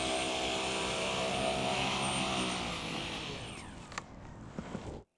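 A model V-22 Osprey's propeller motors whine steadily in flight, a loud buzzing drone with a falling pitch sweep before it tapers off with a few soft knocks and cuts out.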